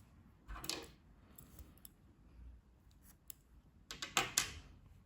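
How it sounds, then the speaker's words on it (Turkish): Scissors snipping crochet yarn, a couple of quiet close metallic blade closures separated by a pause, with soft handling rustle in between and no talk. "Bu renk ipliği kesiyorum."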